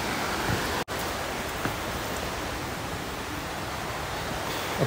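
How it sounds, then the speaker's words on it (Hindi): Rushing water from the Bijakasha waterfall in Bastar, a loud, steady broadband roar heard from nearby that fills the whole moment with no one speaking. "यहाँ से पानी की आवाज़ बहुत अच्छी आ रही है।"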